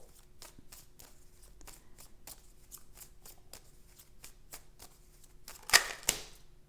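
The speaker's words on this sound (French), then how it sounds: "je tire une dernière carte puis j'arrête." Tarot cards shuffled and handled at close range, a steady run of soft, quick snaps and slides lasting several seconds, ending in two louder crisp flicks as a final card is drawn.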